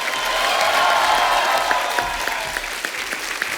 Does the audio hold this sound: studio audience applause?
yes